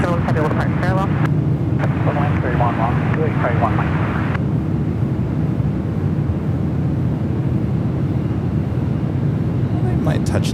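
Over a constant loud low rumble, a Southwest 737-800 and a United 737 MAX 8 come in to land at San Francisco airport. Someone talks through the first few seconds, then the steady engine roar carries on alone.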